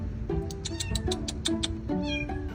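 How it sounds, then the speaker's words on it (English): A kitten crying from underneath a car, with a rapid run of about a dozen high, insistent meows in quick succession, loud and close, with no talking. "My partner Leah heard a kitten crying for help underneath a car."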